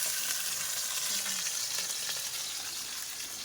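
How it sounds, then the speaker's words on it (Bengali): A large fish head frying in oil in a pan, a dense, even, close sizzle that holds steady throughout with a light crackle over the top and no talk. "এদিকে দেখো মাথাটা ভাজা হচ্ছে"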